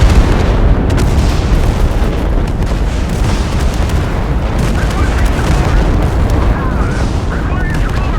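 A loud, unbroken din of artillery fire and explosions in the war game Total Conflict: Resistance, heavy booms layered into a steady roar, with voices talking over it.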